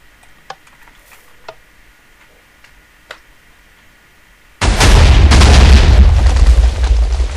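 A few faint ticks and pops, then a sudden loud, sustained roaring burst of Minecraft fireworks from three rows of cannons that fills the rest of the clip.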